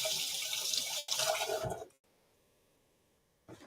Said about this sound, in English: Just wash your hands, folks.